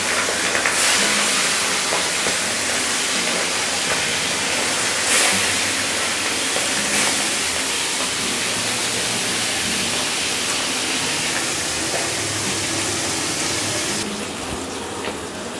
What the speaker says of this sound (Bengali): লবণ আর হলুদ মাখিয়ে রাখা মাছগুলো তেলের মধ্যে দিয়ে দেবো।